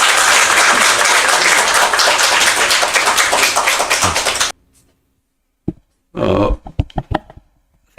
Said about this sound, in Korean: 모두 큰 박수로 환영해 주시기 바랍니다